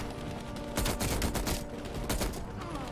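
Rapid gunfire from the PC version of Call of Duty Black Ops Cold War in a Vietnam mission: loud, close bursts of shots that crackle in quick clusters over a steady background of battle din.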